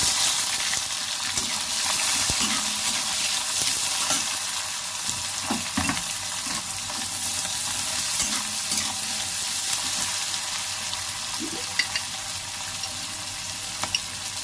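Chopped onion sizzling steadily in a pan, with a continuous frying hiss and occasional soft stirring scrapes, close and fairly loud with no talk.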